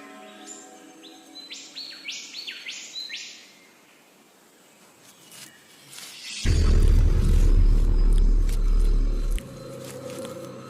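Stone curlews calling outdoors, a series of clear rising whistled cries early on, then a loud low rumbling noise takes over for several seconds before fading.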